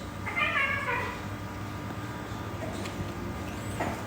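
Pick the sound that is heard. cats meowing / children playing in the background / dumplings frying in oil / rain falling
cats meowing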